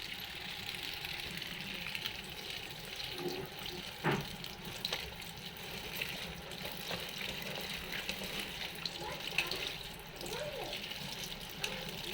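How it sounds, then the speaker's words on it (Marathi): Pigeon pea and green pea pods are rinsed under a running tap in a sink, a steady close stream of water with irregular splashes throughout. "धुवून घेणार आहे अगोदर या शेंगा चांगल्या चांगले धुवून घ्यायच्यात आपल्याला स्वच्छ"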